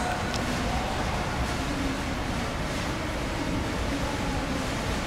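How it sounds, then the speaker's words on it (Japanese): Osaka Metro Tanimachi Line last train bound for Dainichi arriving at Temmabashi station underground, a steady loud broadband rumble and rush of the approaching train filling the platform throughout. "大日行きの最終電車が到着します。"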